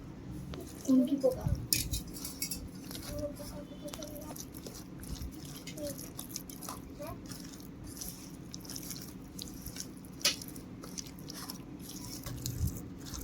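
Chicken pakora marinade being mixed by hand with water, soft wet squishing and squelching that repeats steadily, with someone talking over it throughout.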